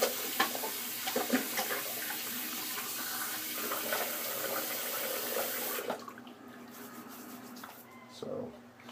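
Water runs steadily from a tap into a sink, a continuous close splashing rush that cuts off abruptly partway through, leaving quieter handling sounds and a brief splash near the end.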